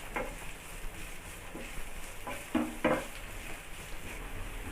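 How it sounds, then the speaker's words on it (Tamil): Sliced onions frying in hot oil with garlic in a pan for homemade Indian-style egg noodles, a quiet steady sizzle with a few soft clinks of a spoon against the pan. "வெங்காயம் வந்து நல்லா வதங்கட்டங்க."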